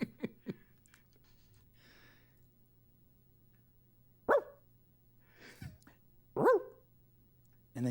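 A person imitating a dog, giving a few short barks and yips separated by quiet pauses, close and fairly loud with no other talk.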